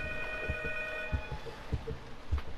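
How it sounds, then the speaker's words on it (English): Telephone ringing inside the P.T. (Silent Hills) video game, a sustained electronic bell tone lasting through the moment, accompanied by low thumping footsteps or game ambience beneath. "The phone is ringing."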